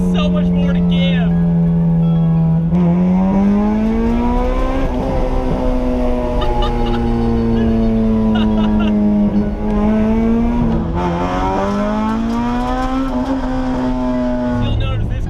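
A track-built 1990s Honda EG Civic with a swapped B18C engine revs very loudly and close, its tone climbing and dropping through several sustained pulls, with a raw buzzing exhaust note throughout.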